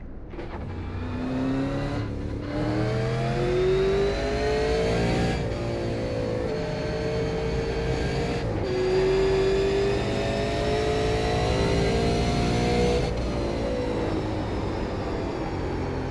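A Super Late Model race car engine in iRacing revs and climbs through the gears, with loud sustained harmonic whine rising in pitch, brief dips at each shift, and a steady roar without talk.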